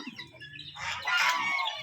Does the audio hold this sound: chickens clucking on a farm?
yes